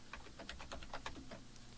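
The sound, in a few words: typing HTML tags on a computer keyboard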